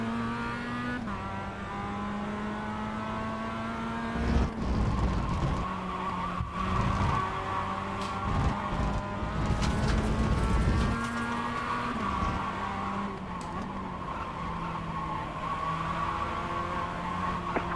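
Mazda Miata race cars lapping the Rudskogen circuit, a continuous engine drone shifting in pitch as they accelerate and brake, with tire noise and no talk.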